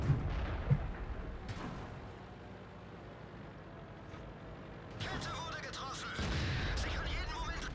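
Tank cannon fire in World of Tanks with a Jagdtiger, StuG III and Tiger II in play, booming shots amid rumbling engine and battle noise, with a louder crackling blast late in the stretch.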